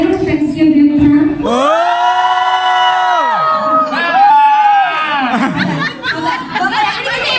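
A crowd of fans at a press conference cheering, whooping and shouting loudly and continuously, long drawn-out screams rising and falling, with laughter and chatter mixed in.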